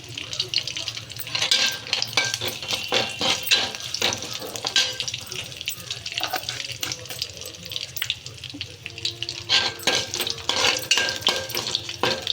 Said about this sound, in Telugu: కరివేపాకు కూడా ఫ్రై అయిందండి. కొంచెం జీలకర్ర వేసుకుందాం.